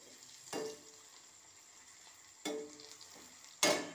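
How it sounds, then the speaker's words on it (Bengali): Fish pieces frying in a pan give a soft, low background sizzle, broken by three brief louder bursts as the pieces are turned or stirred. "খুব সুন্দর করে উল্টে পাল্টে এইভাবে লাল করে ভেজে নিয়েছি"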